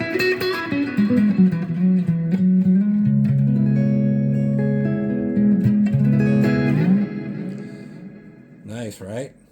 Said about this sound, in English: It's got nice sparkly cleans on the bottom end.